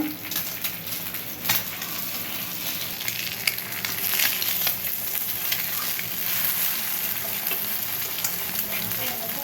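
Eggs sizzle and crackle steadily in a frying pan, with occasional scraping stirs and pops, close up and fairly loud throughout.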